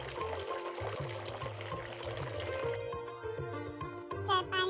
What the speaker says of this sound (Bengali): ট্যাপটা চালু করে নিই